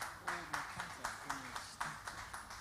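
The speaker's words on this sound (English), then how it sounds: "Round of applause for Extreme Mind Solutions." A handful of people clap in a loose, uneven rhythm, with a voice speaking over the sparse claps.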